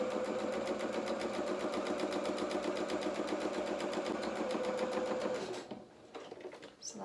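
A sewing machine stitches a second row along a dress skirt with a fast, steady mechanical chatter that runs loud and alone for several seconds, then stops abruptly near the end.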